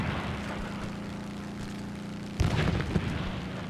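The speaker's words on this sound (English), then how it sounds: "And the destroyers are starting to fire at me, it looks like." Deep booming explosions in the War Thunder ground strike mode as destroyers open fire, a low rumbling drone followed by a sudden loud blast and rolling booms.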